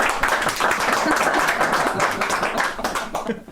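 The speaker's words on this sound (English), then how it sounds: "it's a round of applause from all the Nuffields, please" Room audience at a Nuffield scholars gathering claps in a lively round of applause, busy and fairly close, with voices mixed in under the clapping as it tails off.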